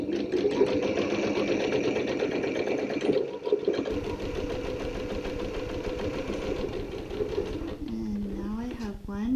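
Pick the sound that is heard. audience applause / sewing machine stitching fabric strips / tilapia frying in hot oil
sewing machine stitching fabric strips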